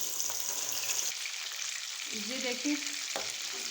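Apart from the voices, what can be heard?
fish frying on high flame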